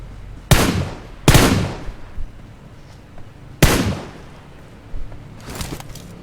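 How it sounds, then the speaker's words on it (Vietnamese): Gunfire in a battle royale video game during a solo-versus-squad match: several loud, sharp shots spaced irregularly apart, each with a ringing decay, plus a few fainter pops. "Tôi vừa nghe được tiếng súng."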